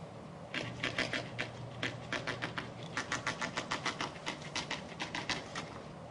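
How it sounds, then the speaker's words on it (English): Printing presses run with a quiet, rhythmic mechanical clatter of rapid repeated clacks and short pauses. "Presses are rolling."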